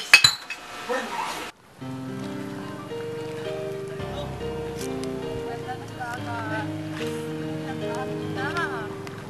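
Glasses clink together in a toast among friends, a quick cluster of bright chinks right at the start, followed by soft music under the scene.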